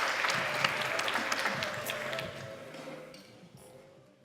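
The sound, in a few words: audience applause for final startup team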